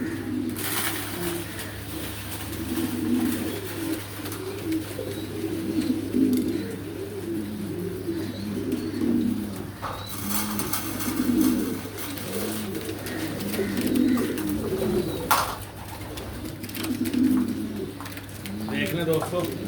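Pigeons coo repeatedly in soft, throaty bursts while eating grain, several birds close by, with occasional wing flutters and a steady low hum underneath.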